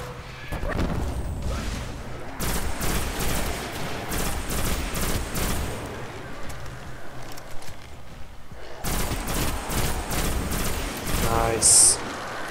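Rapid automatic weapon fire in the Destiny shooter on PS4: dense bursts of gunshots in long volleys, a pause of a second or so midway, then more firing, with a voice talking over it at times.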